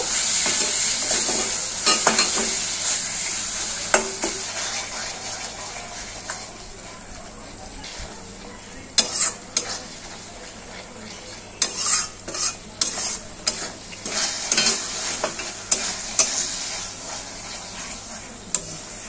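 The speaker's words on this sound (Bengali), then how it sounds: "নারকেল বাটাটাও দিয়ে দেবো, দিয়ে একসাথে কষিয়ে নেব।" Spice masala mixed with ground coconut paste stir-fries for a dhaba-style egg curry, a steady sizzle and hiss with repeated scraping stir strokes that grow busier and sharper toward the end, close and alone with no talk.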